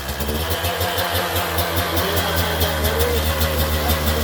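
A KTM 125SX two-stroke dirt bike engine idles steadily with a rapid, popping pulse and a slightly uneven beat, running a little lean on old gas, close by, with no talking.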